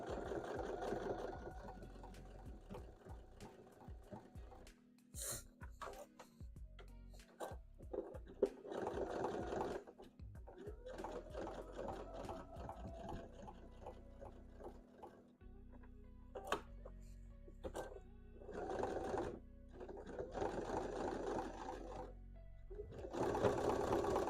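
A home sewing machine stitches a zigzag in bursts, its close motor whir and rapid needle ticking starting and stopping over about twenty-four seconds, with short quiet pauses between runs.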